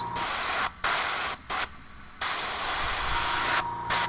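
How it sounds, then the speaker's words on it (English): A spray paint can sprays onto a miniature model in several bursts of steady close hiss, separated by short gaps of quiet. "I'm spraying the back of my hand, make sure paint's coming out properly"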